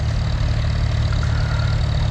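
An American International Harvester W6 vintage tractor idles steadily at a pull practice day, its engine a low, continuous chugging rumble, close and loud throughout with no talk.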